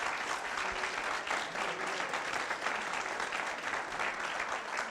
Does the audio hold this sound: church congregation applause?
yes